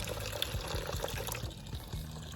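Rainwater runs through a filter and trickles steadily into a rain barrel, a faint continuous splashing with small gurgling drops throughout.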